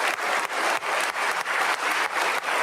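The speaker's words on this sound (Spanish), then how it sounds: "1 minuto de aplauso por su recuperación y porque vuelva" Steady applause from a crowd in the Colombian Senate chamber fills the space, a dense continuous patter of clapping with no voices over it.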